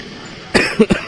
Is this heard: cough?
yes